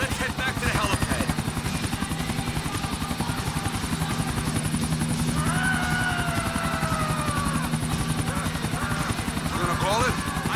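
Helicopter rotor in the video game Grand Theft Auto IV, a loud steady pulsing chop throughout with engine whine, while people talk over it.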